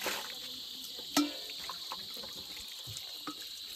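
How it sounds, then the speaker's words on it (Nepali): A small tap or spout runs with very cold Himalayan water, giving a steady, close hiss of flowing water throughout, broken by one brief splash or knock. "यता चाहिँ सानो धारा आयो"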